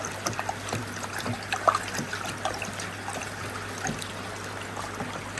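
Water trickles and sloshes steadily as pond treatment scoops are stirred into a bucket of water, a close, continuous gurgling mix with small splashes throughout.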